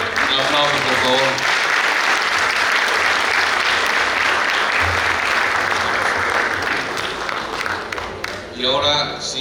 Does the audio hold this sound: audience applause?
yes